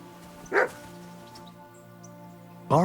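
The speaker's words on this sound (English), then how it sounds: "Barking." A dog in the medieval video game Kingdom Come Deliverance II gives two separate barks, one early and one at the end, over a low, steady ambient hum.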